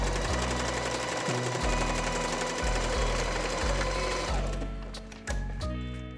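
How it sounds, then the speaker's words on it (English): A sewing machine runs steadily, joining two long fabric ruffle strips into one piece. Its rapid needle rhythm is close and loud, with several short pauses and restarts along the way, and no talking. "I stitched my 2 long ruffle pieces together so it's one long piece"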